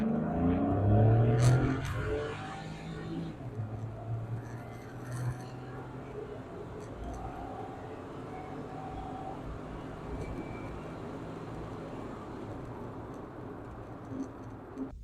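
A Suzuki Wagon R, a car that was given away free and then revived, accelerates from a standstill to 80 km/h. Its engine note swells and strains at the start, then settles into a steady drone of road and engine noise.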